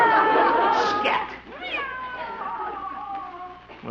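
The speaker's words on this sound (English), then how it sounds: "Oop, go away, cat." Cat meowing: a long, loud drawn-out meow that bends and wavers, then a second stretched, slightly caterwauling cry, close and clear with no talk over it.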